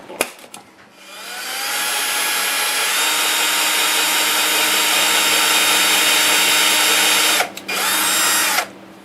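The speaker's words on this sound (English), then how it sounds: "I need to drill a tiny hole for that" A small power drill bores a tiny hole for an anti-rotation pin on an encoder. It spins up with a rising whine into a loud, steady high-pitched drone, cuts out briefly, then runs again before stopping.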